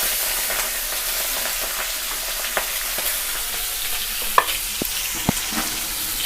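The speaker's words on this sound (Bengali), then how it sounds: "তেলটা গরম হয়ে গেছে, এখানে আমরা চিংড়ি মাছগুলো দিয়ে দেবো।" Prawns fry in hot oil for a cabbage and prawn dish, an even, continuous sizzle close by, punctuated by a few sharp clicks and taps.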